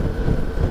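Strong wind buffets the microphone on the Rio-Niterói bridge, making a loud, continuous low rumble with gusty fluctuations and no voices.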